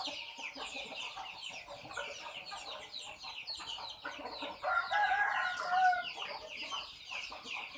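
Young chickens clucking at a farm in the morning, a rooster crowing loudly over the steady chatter of the flock.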